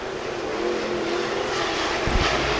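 IMCA Modified race cars racing at Fairmont Raceway on a dirt oval, heard as a steady, loud roar of engines running together, with a dull thump near the end.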